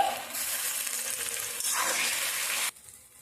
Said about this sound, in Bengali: কাঁচা লঙ্কা আদা ও রসুন ধনে পাতার পেস্টটা দিয়ে দিচ্ছি দিয়ে ভালো করে কষিয়ে নিতে হবে